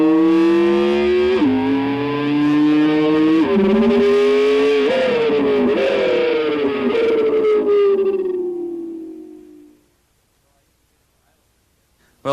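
An electric guitar played by Brad Gillis mimics a Ferrari engine, with rising wailing notes like a car revving through the gears, then dropping pitch at each downshift, loud and sustained before it fades out into silence.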